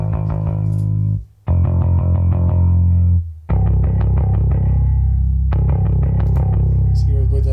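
A heavy, distorted MIDI bass VST chugs through a riff in loud rhythmic bursts, with two short gaps between phrases and no talk.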